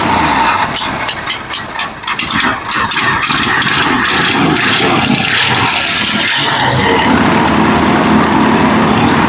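A 1965 Ford Mustang V8 engine, not run in years and with an exhaust leak, runs loud and close, sputtering and uneven for the first few seconds before settling into a steady, rough idle.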